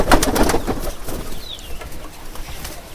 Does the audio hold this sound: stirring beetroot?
no